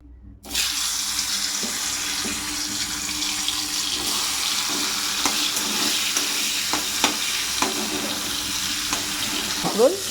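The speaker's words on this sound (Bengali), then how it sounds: "এখানে পটল ভাজতে দিয়েছি দুপুরের তরকারির জন্য" Pointed gourd fries in oil in a home kitchen with a steady broad sizzle throughout, punctuated by light stirring clicks near and clear, no talk.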